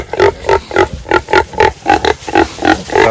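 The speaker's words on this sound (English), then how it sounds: "So here are the piglets," Kunekune pigs and their nearly six-week-old piglets grunt close by outdoors, a loud, steady run of about a dozen rhythmic nasal grunts with no talking.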